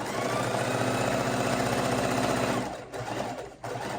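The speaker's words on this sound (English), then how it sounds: "I have red thread in the top of the machine, and we're going to do a quarter inch, and we're going to sew all the way around" Close up, a sewing machine stitches a quarter-inch seam around a fabric Christmas mitten in red thread, humming steadily and rapidly, then slowing with two brief stops near the end.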